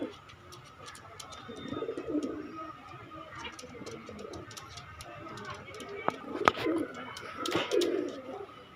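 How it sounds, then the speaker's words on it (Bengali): Pirojpuri pigeons at a Khulna pigeon market coo in repeated low throaty phrases, with several birds calling amid general crowd murmur and scattered sharp clicks and taps. "এক পেয়ার পিরিজপুরি কবুতর আছে"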